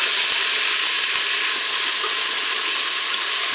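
Lentils dropped into a hot Cookeo electric cooker pot give a loud, steady sizzle and crackle that stays constant throughout.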